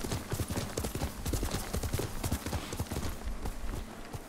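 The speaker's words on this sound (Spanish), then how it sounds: "Arre, Nobu! Nobu, vamos" Horse hooves gallop in the video game Ghost of Tsushima, a fast steady clip-clop of many close, even beats continuing throughout with no voices.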